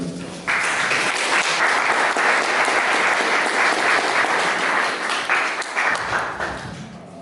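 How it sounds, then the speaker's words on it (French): Loud, close applause from guests at a 60th birthday party, a dense burst of clapping that starts abruptly and holds steady for several seconds before tapering slightly. "Je voudrais, s'il vous plaît, qu'on applaudisse très fort Steve Emmanuel."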